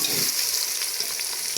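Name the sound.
frying tomato with ginger garlic paste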